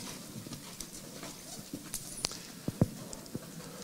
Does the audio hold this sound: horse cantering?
yes